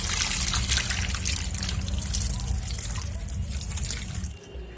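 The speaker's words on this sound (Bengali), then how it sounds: "এদিকে মাছটা ধুয়ে নিয়েছি" Water running and trickling as fish is washed in a home kitchen, a steady close splashing flow with dribbling texture that eases off briefly at the end; faint talk is possible underneath.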